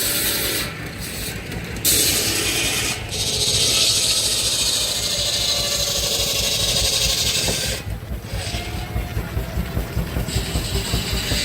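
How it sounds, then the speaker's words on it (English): A steam-engine-driven saw at a fair works through cedar, cutting shakes with a steady rasping, grinding drone and a low rhythmic mechanical pulse underneath, loud and close, with brief dips in the cutting noise. "All right, got the saw going now. It's making cedar shake."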